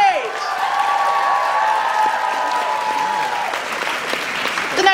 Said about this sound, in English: Let's give a round of applause for Nightmage!